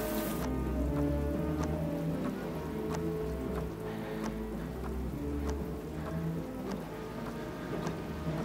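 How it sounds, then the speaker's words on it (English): Steady rain pattering down with scattered sharp drips and ticks, a continuous wash of sound with a low rumble underneath and no talking. "it's raining too hard"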